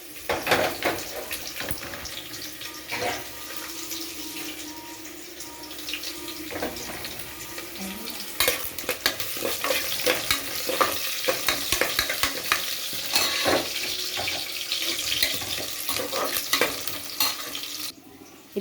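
Onions and tomato fry in a pan and are stirred, a constant sizzle broken by repeated scraping, scratching strokes of the spoon, close and fairly loud.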